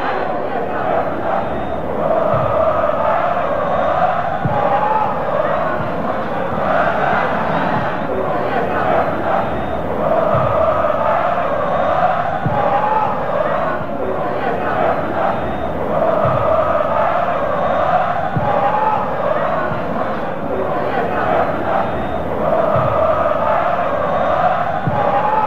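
Stadium crowd of fans at a Palmeiras versus Deportivo Cali Copa Libertadores football match, a loud continuous roar with rising chants and shouts sustained throughout, a commentator's voice woven in.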